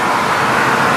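An Audi R8 sports car roaring past on a city street in Boston, a loud, dense, steady engine rush filling the whole second with no gaps.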